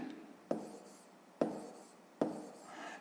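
Numbers are written on a board in three quick, scratchy strokes that land at roughly even intervals, each fading away before the next, in a quiet room with no speech.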